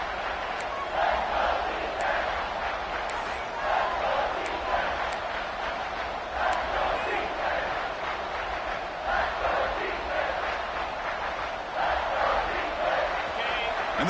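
Football stadium crowd roaring and cheering to back the defense in the red zone, a steady, dense wall of distant voices rising and falling throughout.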